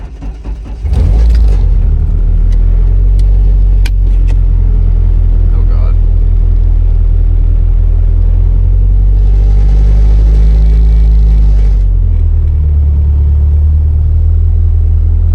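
The engine of a Nissan 240SX project car, driven with no seat fitted, gives a loud, steady low rumble that swells slightly mid-way. A person talks over it from inside the cabin.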